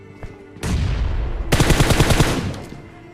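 Gunfire in the mobile battle royale game BGMI: rapid automatic bursts, one short and one longer sustained volley, loud and close with brief gaps between, no talking.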